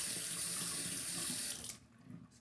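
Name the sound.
water poured onto Shapton 1500 whetstone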